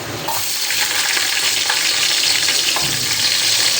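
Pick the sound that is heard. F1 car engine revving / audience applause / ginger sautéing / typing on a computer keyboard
ginger sautéing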